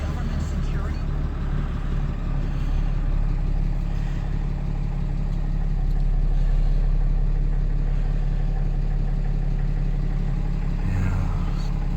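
A 4th gen Cummins diesel truck engine idles after sitting for hours, giving a steady, even low rumble with a constant hum close by, barely changing throughout.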